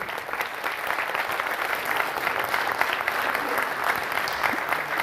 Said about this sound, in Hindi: मैं चाहता हूं कि आप जोरदार ताली से हमारे रंग निर्देशक संजय गर्ग सर का स्वागत करें